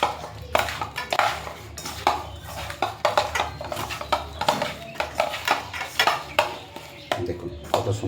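Vegetables and small fish are mixed with mustard oil in a pot, giving repeated close scraping and clinking of a spoon against metal in an uneven rhythm, with faint rustling between strokes.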